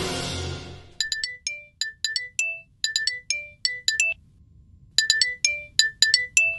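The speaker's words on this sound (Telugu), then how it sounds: "ఫోన్" A phone ringtone plays a repeated bright electronic chiming melody in crisp phrases with brief gaps, loud and close, after a fading burst of noise at the start.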